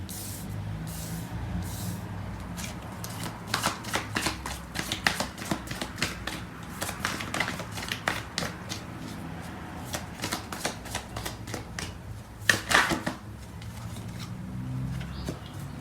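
Tarot cards being shuffled during a love reading, a steady run of quick papery riffles and soft flutters with a few sharper snaps near the end, fairly close and alone with no talk.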